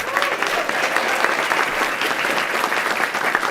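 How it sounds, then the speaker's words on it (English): A large conference audience gives sustained, dense applause, a steady wash of many hands clapping with no voices on top. "Why don't we give her a huge round of applause?"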